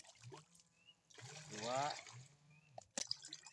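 Liquid Nativo fungicide is poured into a measuring container for three sprayer tanks, a brief close trickle rising in pitch as it fills, with someone talking around it.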